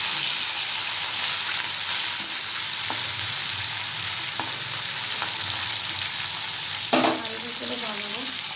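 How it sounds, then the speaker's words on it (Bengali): Small morola fish fry in a pan of oil, a loud, constant sizzle and spatter with a few faint clinks of utensils and no speech. "এখন আমি মোরলা মাছটা ভালোভাবে ভেজে নেবো"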